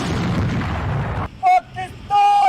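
Cannon salute fired on Independence Day as part of a 21-gun salute, heard as loud sharp booms, two or three separate blasts after a stretch of rumbling noise.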